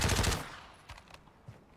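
A loud burst of rapid gunfire in a shooter video game, dense and close at first, then fading into a few scattered distant shots and thuds, with no talking over it.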